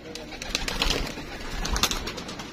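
Pigeons in a loft kept by a fancier, cooing softly in a close, continuous murmur with some faint speech-like noise mixed in.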